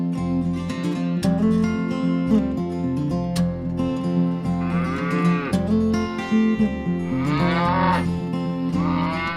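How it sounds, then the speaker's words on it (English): Cows mooing on a United States dairy farm, several long, loud, drawn-out calls overlapping one another, close by with no talk over them. "the cows here, like these young ladies in the United States, are always well cared for, they're healthy"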